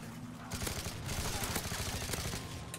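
Rapid automatic gunfire in the PC shooter Call of Duty Modern Warfare 3, a continuous burst of shots that starts about half a second in and keeps rattling at moderate loudness to the end.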